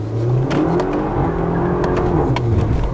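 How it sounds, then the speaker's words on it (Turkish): An Audi R8 engine idles with a deep, lumpy factory exhaust burble, punctuated by a few sharp pops and crackles. "Abi R8'de fabrikasyon burble var."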